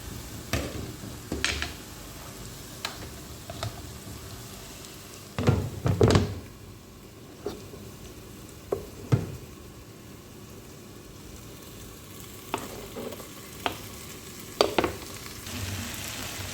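Onion, carrot, garlic and tomato sizzle steadily in a pan, with scattered clunks and scrapes of stirring breaking over the low frying hiss; no one speaks.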